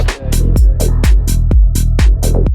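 Punchy drum fill in a tech house track, a run of about ten sharp, evenly spaced hits with deep booming low end and bright crisp tops, loud and close with no voices.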